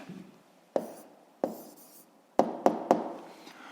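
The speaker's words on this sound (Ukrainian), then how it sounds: "записуємо відповідь, пишемо відповідь" A pen writing an answer on paper for a physics problem, soft close scratching strokes broken by several sharp taps of the pen touching down, no speech.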